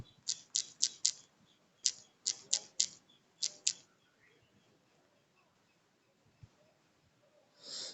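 Password typed on a keyboard: a short burst of four quick sharp key clicks, then another run of five, each crisp and close, followed by near silence with a soft rustle at the end.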